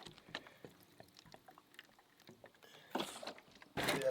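A smoking-hot bullet dropped into water makes a few faint splashes and sputters, then a louder hissing burst near the end.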